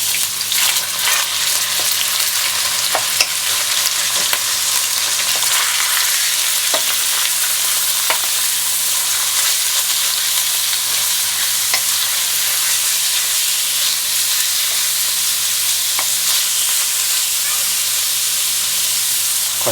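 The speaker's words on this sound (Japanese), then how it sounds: "はい、じゃあこれを炒めます。" Ground beef sizzles and spatters steadily in olive oil in a hot pan, a continuous crackling hiss with occasional sharper pops.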